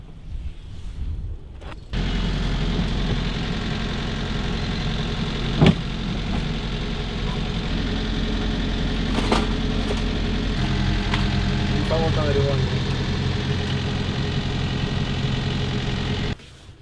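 A fishing boat's engine starts and runs at a steady idle, a loud continuous low drone with a few small knocks and clanks, no talking over it.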